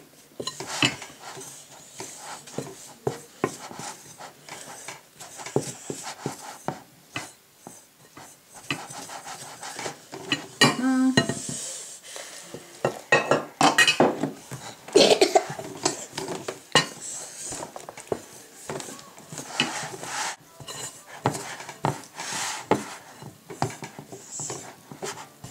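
Bread roll dough with milk and butter is mixed by hand in a bowl, with uneven scraping, clinking and squelching strokes that come close and fairly loud, with little talk.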